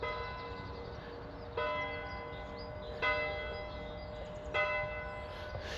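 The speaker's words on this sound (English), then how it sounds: "the bell still works." A still-working bell at a redundant church rings several times with slow, evenly spaced strokes, each leaving a long ringing tail, heard faintly from a distance over outdoor background noise.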